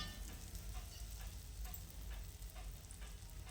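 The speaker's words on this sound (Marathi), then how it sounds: "आता इथं आपलं तेल गरम झालेलं आहे आणि ह्या तेलामध्ये असे वडे एक एक सोडून" Black-eyed pea vadas dropped one by one into hot oil fry with a steady, fairly quiet sizzle and bubbling crackle, broken by a few faint ticks and clinks, with no talking.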